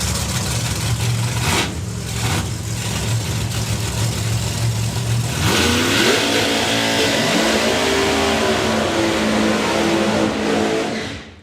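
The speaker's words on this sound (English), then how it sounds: "burnouts are pretty smoky and lively today" A drag racing car revs its engine during a smoky burnout at the Summer Nationals, the rumble climbing in pitch and holding at a loud, sustained howl before cutting off.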